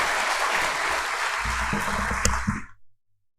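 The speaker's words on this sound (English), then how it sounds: "Let's acknowledge him with a round of applause" A seminar audience gives a round of applause welcoming a professor, crowded clapping sustained for nearly three seconds before it cuts off abruptly into silence.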